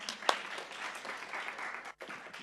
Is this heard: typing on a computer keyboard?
no